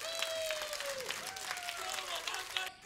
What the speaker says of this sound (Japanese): 皆さん大きな拍手。